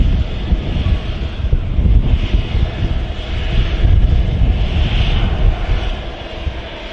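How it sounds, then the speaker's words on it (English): Hainan Airlines jet taxiing at Manchester Airport, a steady low engine rumble and whine heard from outdoors with gusty wind buffeting the microphone throughout. "Just got a visual of the Hainan about to be in its taxi down Juliet."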